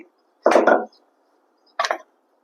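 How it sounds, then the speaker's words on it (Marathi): Two short, close wooden knocks and rolls of a rolling pin working a puran poli flatbread by hand, the first longer and doubled, the second briefer, with near silence between them. "आता हे पोळी लाटून घेऊ आपण हलक्या हातानं"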